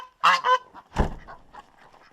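Farm birds on a cold-climate homestead honk loudly nearby, two quick goose-like calls followed by a harsher honk and a few softer trailing calls.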